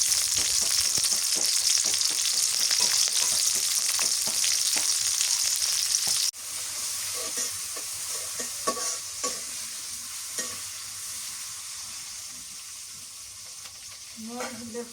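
Green chilies frying in a pan for a vegetable dish, with a loud, continuous sizzle and repeated scraping stir strokes. The sizzle drops abruptly partway through and settles into a softer crackle with occasional clinks.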